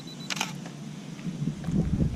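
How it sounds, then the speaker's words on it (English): A camera shutter fires once while photographing an action figure, giving a short crisp mechanical click with a quiet room behind it. "Let's take a shot and see if we got the right exposure."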